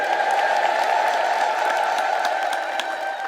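A church congregation listening to a bishop's sermon breaks into dense, sustained applause and crowd noise at fairly close range, the sound staying loud and even throughout with scattered sharper claps and cries.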